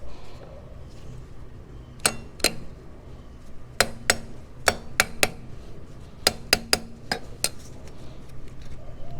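Sharp metallic taps knock at the rear wheel of a Honda Rebel 1100 motorcycle to free it from its dowels, a series of about fifteen close, bright strikes in clusters of two and three against a quiet background.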